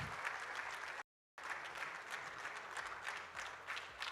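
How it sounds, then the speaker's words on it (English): Conference audience at a real estate developers' convention in Abu Dhabi gives steady applause, dense and fairly quiet, broken by a short dropout of total silence before the clapping resumes. "A big round of applause for Luke."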